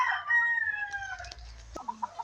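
Chickens on an island farmyard cluck in short, scattered calls, with a rooster's drawn-out crow near the start, all fairly faint and outdoors.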